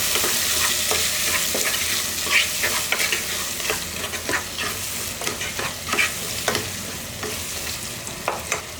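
Chopped tomatoes hitting frying onions in a pan for sambar, a steady dense sizzle with repeated scraping taps of a spoon stirring, close and loud, no talking.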